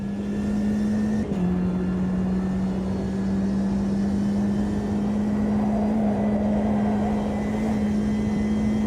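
A racing car engine in the sim racing game Automobilista 2 holds a steady, loud, droning whine at nearly constant pitch, with a brief dip and shift early on.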